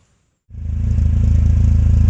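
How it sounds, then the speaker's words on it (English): A VW Golf GTI 16v with mid and rear resonators deleted from its exhaust fires up after a half-second of silence, then settles into a loud, deep, steady idle with a pulsing low rumble close by. "we've now got the mid and rear resonator delete, and as you've heard, the car is sounding so much better"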